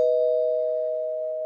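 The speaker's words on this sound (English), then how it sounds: "That Star Wars mild spoiler bell." A single sustained bell tone serves as a spoiler warning sound effect on a comic book podcast, ringing clear and steady and slowly fading, with no voices.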